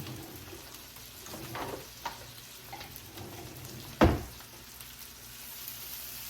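Vegetables with jarred garlic sizzle in a pan, a quiet steady frying hiss broken by a few scraping stirs and one sharp clatter near the middle.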